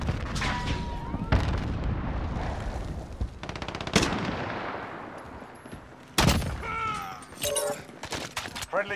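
Explosions and heavy gunfire from a first-person shooter video game: loud booming blasts and rapid bursts of shots throughout, with a couple of sharp impacts near the start and another barrage late on.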